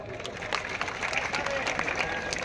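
An audience claps for South Central Railway Secunderabad at a sports match, a scattered crowd applause of moderate loudness that rises and carries on under a voice talking.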